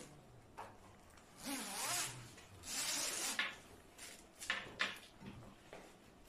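Zipper fasteners on a patient's hospital pyjama sheet being drawn closed, several slow rasping zip strokes close by, with softer rubs and clicks of fabric between them.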